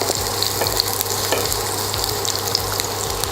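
Small pieces of cabbage fry steadily in a hot pan, a dense, continuous sizzle with occasional stirring scrapes, close and loud with no voices.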